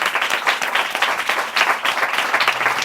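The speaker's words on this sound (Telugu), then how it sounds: "give claps and praise to the lord" A church congregation claps steadily and loudly, dense applause filling a room with a slight swell midway, during a Sunday sermon.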